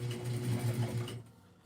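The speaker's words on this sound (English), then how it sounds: "I'm gonna sew across it just like this." Sewing machine stitching across a rolled-down fabric Christmas gift bag, a steady close whirring run for about a second before cutting off into quiet.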